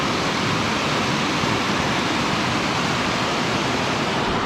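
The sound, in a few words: river flowing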